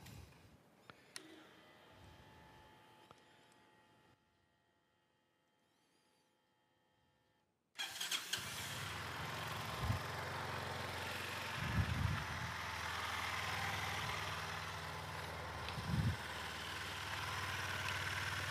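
After a quiet stretch with faint clicks, an SB300 motorcycle engine starts abruptly and settles into a steady, close idle with periodic low thumps, following a coolant change.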